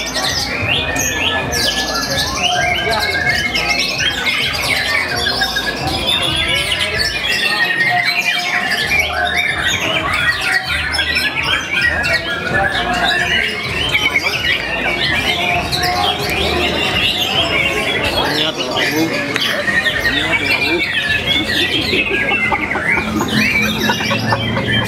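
A white-rumped shama (murai batu) sings at a bird contest event, its loud, dense run of squawks, chirps and whistled phrases continuing without pause throughout, with other birds calling in the busy background.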